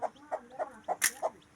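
Chickens in a household flock cluck close by, about five short, evenly spaced calls over a second and a half, with one sharper squawk near the end. No one speaks.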